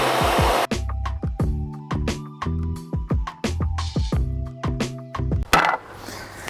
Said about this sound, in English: I'm going to go cut these on the table saw now.